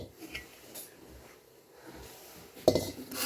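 A steel cooking pot knocks against a surface with a sharp metallic clank near the end, preceded by quiet kitchen handling while bathua raita is being prepared.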